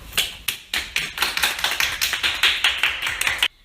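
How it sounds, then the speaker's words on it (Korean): Applause from a small group of nursing students welcoming a guest dietitian to a class presentation: brisk, fairly close clapping with distinct individual claps blending into a steady patter, cutting off abruptly at the end. "박수로 모셔보겠습니다"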